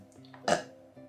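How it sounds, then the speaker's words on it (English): A single short burp from a person bursts out loud midway, with a quieter hum of background tones before and after. "Oh my god, I never burp."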